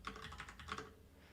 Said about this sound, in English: Can I keyboard nav down?